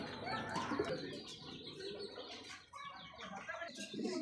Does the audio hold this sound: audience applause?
no